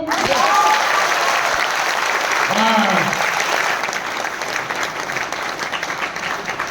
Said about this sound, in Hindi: सबसे पहली ताली बजाओ।